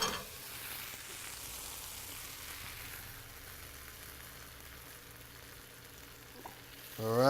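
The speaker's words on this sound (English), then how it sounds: "All right, now we're ready to add the eggs." Eggs sizzle and fry steadily in a small pan for an omelet in a hotel kitchen, a continuous soft crackle with occasional stirring, and a sharp clatter of utensils near the end.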